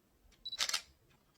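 A Canon camera shutter fires once, a crisp, close mechanical click-clack lasting a fraction of a second in an otherwise quiet room.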